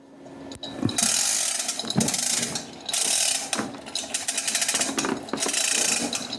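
Cheap crane scale ratcheting as it pulls on a rivet, a run of loud, close mechanical clicking and grinding in several bursts separated by short pauses.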